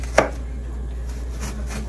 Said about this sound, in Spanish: También vamos a rebanar la mitad de la cebolla